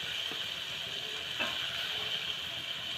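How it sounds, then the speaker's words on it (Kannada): Chopped onions fry in hot oil with a tempering for tomato tili saaru, giving a steady close sizzle and hiss with faint stirring scrapes, and no voices. "ಆ ಈರುಳ್ಳಿನ ಒಗ್ಗರಣೆಯಲ್ಲಿ ಹಾಕ್ಕೊಂಡು ಈಗ ಫ್ರೈ ಮಾಡ್ಕೋಬೇಕು"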